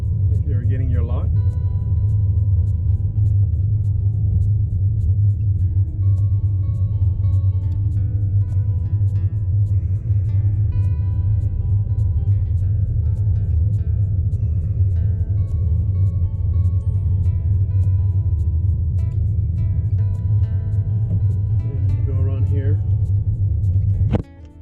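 Steady, loud low road rumble fills a car cabin while driving through the Eagle Reserve community in Fort Myers, Florida, continuing unbroken for the whole stretch with a brief clunk near the end.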